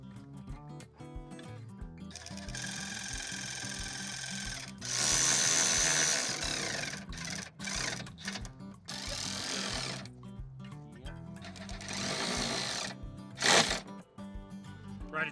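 A power ratchet whirring in short and longer bursts at full throttle, close and loud, with pauses and clicks between runs and brief talk mixed in.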